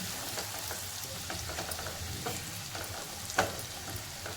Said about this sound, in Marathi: एक मोठा कांदा कापून घेतली व्यवस्थित परतून घ्यावे आपण